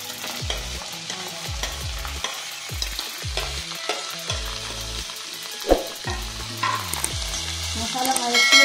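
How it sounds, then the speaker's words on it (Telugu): Curry leaves, chopped onion and green chillies fry in hot oil for a lady's finger pulusu, sizzling steadily up close while a spoon stirs the pan with repeated scraping knocks. "ఆయిల్ వేడెక్కిపోయింది కదా, ఆయిల్లో ఫస్ట్ కరివేపాకు వేసుకోండి. తర్వాత ఉల్లిపాయ ముక్కలు, పచ్చిమిరపకాయ ముక్కలు"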